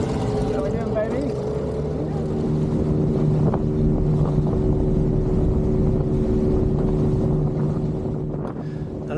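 Dinghy motorboat crossing a working commercial harbour, its steady outboard engine drone holding throughout, loud and close, with wind buffeting the microphone.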